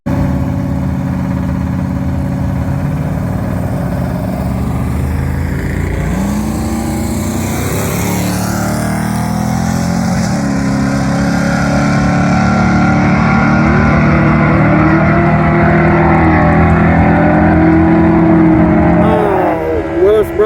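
Drag race cars running a quarter-mile bracket race, engines roaring steadily and rising in pitch as they pull away, loud and sustained with a rougher burst near the end.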